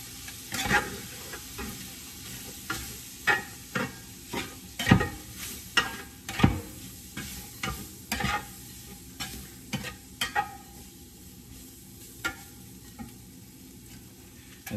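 Sausage and sprinkled flour stirred in a skillet for gravy, a low sizzle broken by a steady series of spoon scrapes and clacks against the pan, close and moderately loud, with no voices.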